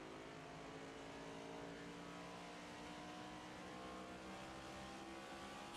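Race car engines in the NASCAR 25 video game at Loudon, a continuous loud droning roar with steady engine tones and no breaks, no voices.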